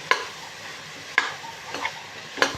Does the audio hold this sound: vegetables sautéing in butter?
yes